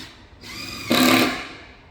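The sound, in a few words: screwing in PZ2 screws on shelving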